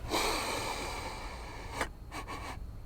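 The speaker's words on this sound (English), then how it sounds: "Let's take a sniff test." Close, loud sniffing in a smoker's car interior: a long breathy inhale, then a few quick short sniffs.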